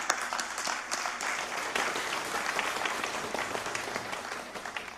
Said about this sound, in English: I want to ask all of you to give them a round of applause